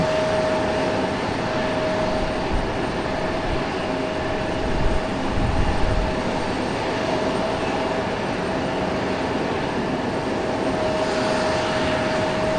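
Airplane engine roar at Raleigh Durham International Airport, a loud sustained drone with a steady tone, rising slightly midway, no talk.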